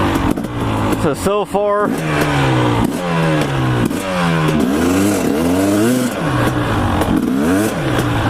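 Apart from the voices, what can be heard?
dirt bike engine revving after new spark plug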